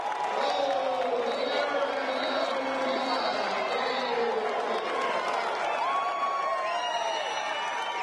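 A stadium crowd at an NCAA college lacrosse game between Notre Dame and Maryland at Bobby Dodd roars steadily with cheering and whoops, beneath a commentator's excited play-by-play.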